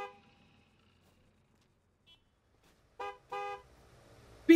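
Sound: car horn honking

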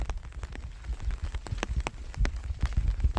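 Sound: rain falling

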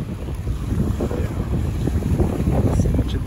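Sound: wind blowing at sea while fishing from a boat

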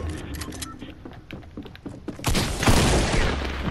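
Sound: gunfire in the video game Fortnite

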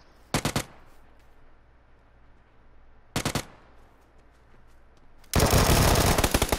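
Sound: gunfire in a video game

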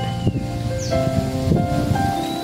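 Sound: wind blowing through leaves outdoors

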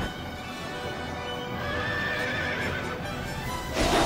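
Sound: horse charging in video game Nobunaga's Ambition: Awakening

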